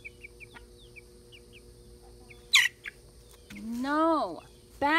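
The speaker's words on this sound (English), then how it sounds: "No! Bad, Rooster. Bad" Rooster fed corn dogs calls out in a few short clucks and a louder rising crow-like squawk, fairly near over quiet background.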